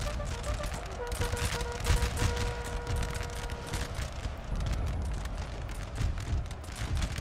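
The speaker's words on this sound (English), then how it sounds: "These units load and fire." Musket volleys from line infantry in Napoleon: Total War crackle in a dense, continuous wash of distant gunfire and battle noise, with a voice talking faintly underneath.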